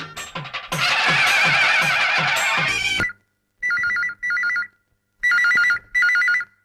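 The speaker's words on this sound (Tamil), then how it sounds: "போன் அடிக்குது" A telephone rings in a Tamil film comedy scene: a loud burst of music gives way to repeated electronic ringing pulses with short gaps between them, and no one speaks.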